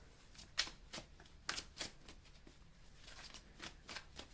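Tarot cards being shuffled by hand, with soft, close riffles and slaps in short repeated bursts at low volume.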